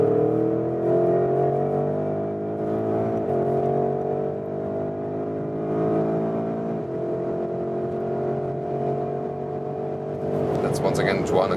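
A 2021 Porsche Cayenne GTS Coupé with lightweight sports package accelerates hard in Sport Plus mode from about 80 km/h, a steady loud engine drone rising through gear changes, heard from inside the cabin with no talk.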